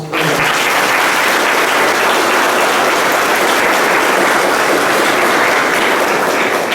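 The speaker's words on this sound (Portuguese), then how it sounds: "com uma salva de palmas" Congregation at a São Sebastião community church in Barreiros applauds together with the altar servers and choir, a dense, loud, steady clapping that fills the whole stretch without a break.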